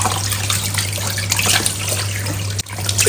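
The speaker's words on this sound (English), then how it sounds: "So I'm washing the fish." Fish being washed in water, a continuous splashing and trickling rush close by with small bumps of handling, and no one speaking.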